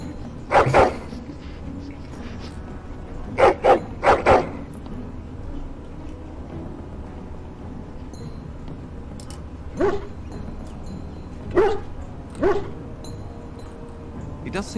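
Dog barks from the Dragon Age Origins video game, several short bursts spaced out across the clip with quiet game ambience between them.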